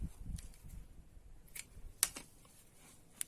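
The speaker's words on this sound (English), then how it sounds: "and then cut my yarn." Scissors snip yarn while finishing a crocheted swirled hat, with a few faint handling rustles and then two or three crisp close snips in a quiet setting.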